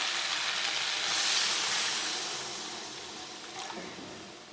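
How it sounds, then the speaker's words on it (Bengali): Water poured into a hot pan of frying papaya curry gives a steady steam hiss that swells, then slowly fades, with a faint clink near the end. "এবার আমি জল দিয়ে দেবো"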